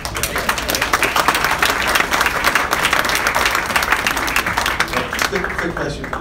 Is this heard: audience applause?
yes